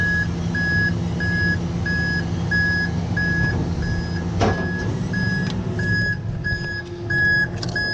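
Fire truck outriggers being retracted, with a loud steady hydraulic and engine hum under regular, evenly spaced reversing beeps and a sharp clunk partway through.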